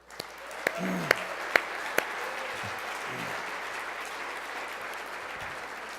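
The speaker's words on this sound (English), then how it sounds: "So how about a round of applause for them?" Audience applause at a ski hall-of-fame induction ceremony, a steady broadband wash of clapping that swells quickly and holds for several seconds, with a few sharp louder claps near the start and faint voices underneath.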